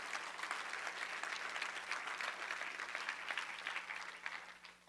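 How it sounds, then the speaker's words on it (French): A French-speaking church congregation at a season launch service applauds a group of men and women, producing continuous, even clapping at moderate distance with a faint steady hum underneath. "Église, je pense que ça mérite nos applaudissements pour ces hommes et ces femmes."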